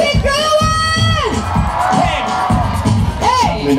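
Crowd at a live comedy show clapping and shouting together, a loud dense roar of cheers and whoops with an amplified voice calling out over it.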